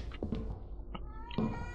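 Kitten meowing in the video game Erie: a few short, faint mews scattered over about two seconds, heard against quiet game ambience with no talk.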